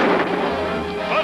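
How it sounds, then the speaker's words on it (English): A hand grenade blast in a 1953 African jungle adventure film, a loud, dense crashing roar that fills the whole short moment without a clear sharp onset. "African hand grenade"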